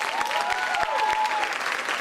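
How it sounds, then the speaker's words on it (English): A crowd at a leadership workshop applauding themselves, loud continuous clapping with a few sharper claps standing out, while a voice carries over the top. "give yourselves a huge round of applause"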